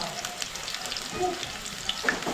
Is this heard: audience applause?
no